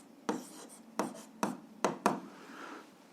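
Pen strokes on paper as a math exercise is written out, five distinct scratchy marks at uneven intervals, close and fairly quiet with no talking.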